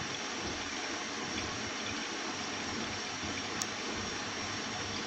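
Water and detergent wash steadily into a washing machine drum during a towel boil wash with peach-scented soap powder and Tursil Lilac Garden, a constant close rushing flow without pause.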